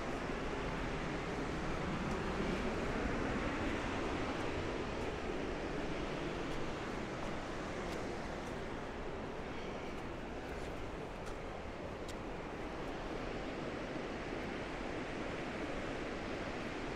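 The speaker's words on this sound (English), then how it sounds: "The waterfall is probably 30 or 40 feet tall right there." Waterfall about 30 to 40 feet tall at Natural Bridge Falls, Montana, a continuous broad rushing roar of falling water, steady and fairly close with no voices.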